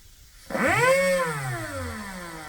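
A Dremel EZ406 rotary tool fitted with a cut-off disc starts up slowly, its whine rising in pitch then settling and easing down, loud and close, alone without talk.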